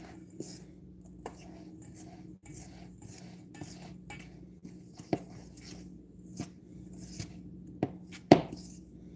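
Sourdough biscuit ingredients being mixed in a bowl, giving a quiet scattering of soft clinks and scrapes of a utensil against the bowl, with a sharper knock near the end.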